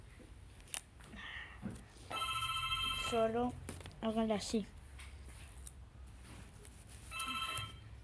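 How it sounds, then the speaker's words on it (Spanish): A phone rings in repeated electronic bursts of stacked tones, strongest in the middle of the stretch and again near the end, with someone talking close by. "Sí, mi teléfono está sonando."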